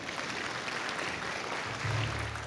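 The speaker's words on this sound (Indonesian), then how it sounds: "Sekali lagi tepuk tangan hadirin sekalian, Ibu Afrianti Sumboja." Audience applause at an award ceremony for the Achmad Bakrie Award 2024, a steady dense wash of clapping from a crowd throughout, with no speech over it.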